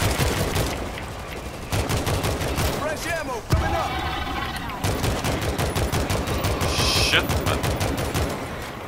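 Rapid gunfire rips through a horde of zombies in World War Z, dense bursts of shots repeating almost nonstop, with excited players shouting in Danish over the shooting.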